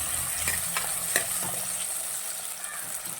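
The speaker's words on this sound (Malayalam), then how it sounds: "പിന്നെ ഇതിലേക്ക് ഒരു തണ്ട് കറിവേപ്പിലയും കൂടി ചേർത്തിട്ട് നന്നായിട്ടൊന്ന് ഇളക്കിയെടുക്കാം." Crushed shallots and curry leaves fry in hot oil while being stirred. A bright, steady sizzle carries a few sharp scraping clicks from the spoon, close and alone.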